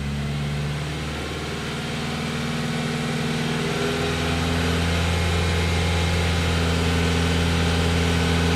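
A car engine hums steadily as it rises in revs toward about 2,005 rpm, a continuous loud drone with a low tonal rumble that gradually climbs and holds, with no voices.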